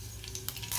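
Mustard seeds crackle and sizzle in hot oil in a pan, a brief, soft frying hiss with a few small pops building toward the end, with no voices.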